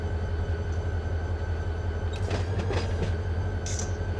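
A train in Run 8 Train Simulator rolls through a track switch, a steady low rumble with a few brief clicks and squeaks as the wheels cross the points, heard alone without talk.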